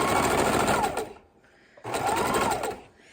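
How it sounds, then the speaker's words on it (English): Sewing machine stitching two pieces of leftover batting together along a seam, running in two loud, close, fast bursts of steady mechanical whirring with a short quiet pause between them. "let's sew this up right at the seam"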